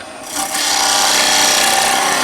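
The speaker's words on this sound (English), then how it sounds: "again slide the chisel back, just take that corner out" A skew chisel cuts wood on a lathe in a loud, continuous rasping shear that builds after a brief softer start and holds close and steady.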